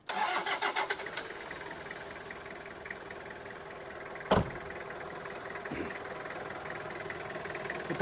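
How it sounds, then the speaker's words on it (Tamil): A restored Toyota Qualis RS engine cranks for about a second and catches on the first try, then settles into a steady idle, with one sharp knock partway through. "இப்போ இந்த இன்ஜின் வந்து ஸ்டார்ட் ஆகும்போது நீங்கள் கவனிச்சிருப்பீங்க"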